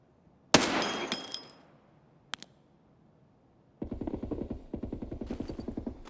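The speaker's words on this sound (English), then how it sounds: "shooting scavs behind us" Gunfire from scavs in a shooter video game: a loud burst of rapid shots that decays over a second, a brief sharp report a moment later, then a dense stretch of rapid, rhythmic firing near the end.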